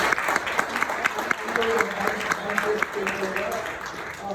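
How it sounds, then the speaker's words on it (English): Applause from the audience at a masterclass event in Dubai, lively clapping in a busy room with a voice talking over it and faint background music running underneath. "Yeah, give a round of applause, please."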